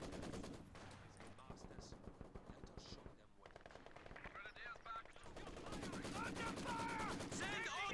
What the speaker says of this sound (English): A lot of fire down on these troops trying to get into this.